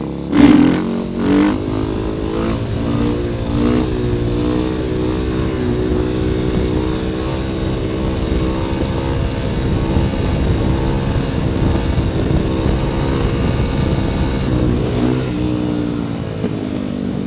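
A KTM 500EXC-F dirt bike engine roars loud and close through a wheelie, holding a steady high-revving drone that rises and falls slightly, with no talk over it.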